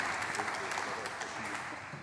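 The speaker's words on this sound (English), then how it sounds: "So a round of applause for all our panellists," Audience applause for the panellists at a 2015 Sick or Treat Q&A event, a steady dense wash of clapping that holds evenly for a couple of seconds at moderate, slightly distant level.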